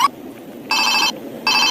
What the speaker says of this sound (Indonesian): ini juga ada telepon Hello Kitty.